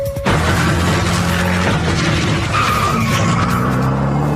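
Gumpert Apollo, a hand-built two-seat mid-engine German supercar, drives hard with a loud, continuous engine roar whose pitch climbs steadily, with tire squeal and no voices over it.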